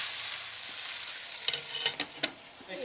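Mushrooms cook over medium-low heat in a pan with a bright, steady sizzle, joined midway by a few sharp scrapes and taps of a utensil stirring, close and without voices.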